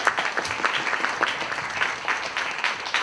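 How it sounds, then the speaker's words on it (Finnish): An audience at an awards ceremony applauds in a dense, steady wash of clapping that holds at an even level throughout. "Aplodi, olkaa hyvä."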